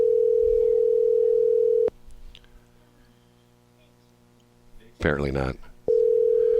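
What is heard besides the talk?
telephone call ringing, calling a number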